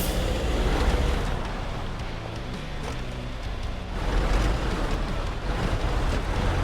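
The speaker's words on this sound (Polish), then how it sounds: "Przejeżdżamy przez rzekę." Off-road vehicle in Expeditions: A MudRunner Game driving through a river, a dense rushing splash over a low engine rumble, loud and continuous with swells, no talk.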